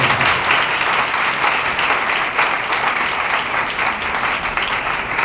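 A church congregation at a Sunday service claps loudly and continuously, a dense, even wash of many hands sustained throughout with no pauses.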